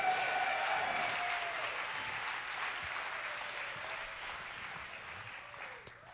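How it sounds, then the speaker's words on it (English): Steady applause fills a church worship service, a broad even wash of many clapping hands that holds for several seconds and then slowly eases, with a faint sustained tone early on. "would you get loud and clap your hands and thank the Lord?"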